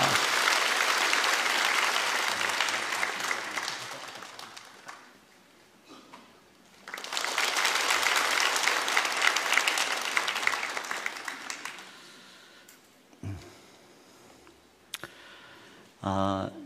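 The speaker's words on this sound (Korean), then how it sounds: "우리 박수로 이 아이를 축복합니다" A church congregation bursts into applause during a Sunday worship service, two long waves of clapping that swell and fade with a quieter pause between them, followed by shuffling and a brief final spatter.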